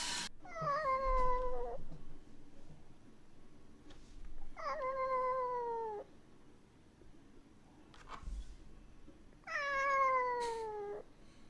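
A cat meows three times during a livestream, each call a long, drawn-out, falling wail with clear pauses between them over a low background hum.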